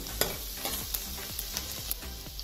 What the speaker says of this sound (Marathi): त्यामध्ये 2 मोठे चमचे बारीक कट केलेला लसूण घालूया आणि हा लसूण आपण परतून घेऊया